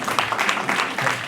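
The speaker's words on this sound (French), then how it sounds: "une salve d'applaudissements aussi pour tous ceux qui sont avec nous là" Conference audience clapping, a dense short burst of applause filling the room at steady volume.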